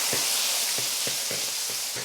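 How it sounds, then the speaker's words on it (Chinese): Ginger, garlic, bean paste and dried chilies fry in rapeseed oil in a wok, a loud steady sizzle close by with soft rhythmic scraping strokes of a spatula stirring every half second or so. "锅里面倒油、姜蒜儿"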